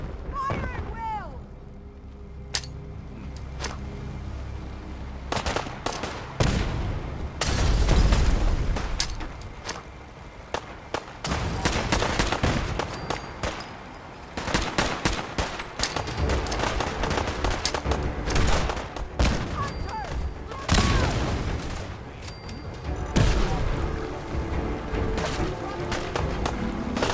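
Battle in the game Fallout 4 Far Harbor: repeated gunshots, rattling automatic fire and heavy explosions crash in irregular bursts over a long stretch, with voices shouting among the combat noise.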